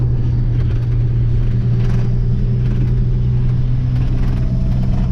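A Dodge C500 cab-over truck rides roughly, giving a steady low engine rumble with periodic rattling and clunking from the chassis as it bounces along.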